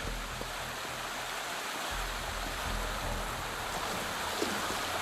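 A waterfall in the video game Wuthering Waves roars as a steady, even wash of falling water, constant and unbroken, with no talking over it.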